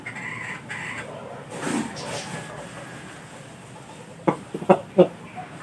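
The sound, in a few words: Japanese Shamo brood hen clucking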